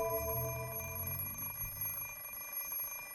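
An alarm clock rings in the Fate/Stay Night visual novel, a steady electronic tone held at even loudness over a low background hum, with no voices.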